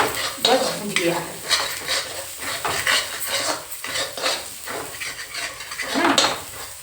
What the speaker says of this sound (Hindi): ये मसाला हमारा जितना भूंजना है बस भूंज गया है